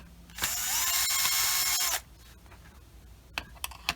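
A power drill whirs steadily for about a second and a half while backing screws out of a 2017–2019 Infiniti QX60 dashboard, loud and close, followed by a few faint clicks and knocks.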